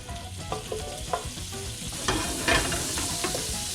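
Butter sizzles in a frying pan over a moderate flame while floured saltimbocca cutlets are cooked, a constant close hiss broken by scattered utensil clicks and scrapes.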